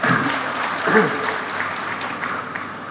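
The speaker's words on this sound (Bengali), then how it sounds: "এখন সবাই হাততালি দিচ্ছে, আর একটু দেন।" A crowd clapping at a public gathering, fairly dense and even for a few seconds, with a voice briefly rising over it.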